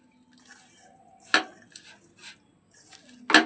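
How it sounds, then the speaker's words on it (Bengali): Semolina stirred with black cumin and salt in a bowl, scattered spoon scrapes and clinks with a few sharper knocks, close and sparse. "প্রথমে এগুলো আমি একটু ভালো করে মিশিয়ে নেব"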